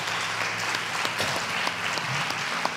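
Lecture audience applauding after a talk by Enrique Dussel, a dense steady patter of many hands clapping, fairly close and continuous for a few seconds.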